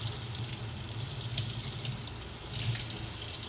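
Water runs steadily from a kitchen sink faucet over a cutting board after squash has been cut, a close continuous splashing stream that brightens slightly near the end.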